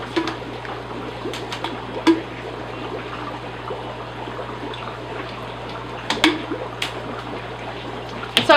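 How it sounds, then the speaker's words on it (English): A standard siphon pulls water and gunk from an aquarium set up as a Bristlenose breeding tank, giving a steady low trickle and slurp with a few brief louder gurgles near the end. "So I just have a standard siphon. And we're just going to siphon up all this gunk."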